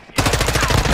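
An M4 rifle in Call of Duty fires a rapid, loud automatic burst of evenly spaced shots right up close, starting abruptly after a short quiet moment.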